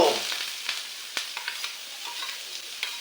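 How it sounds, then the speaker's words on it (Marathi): Chopped onion drops into a crackling mustard-seed tempering in a hot pan, setting off a close sizzle that fades while sharp pops and crackles keep sounding through it. "फोडणी आपली तडतड तरी हा हे पडलो आपलं कांदो"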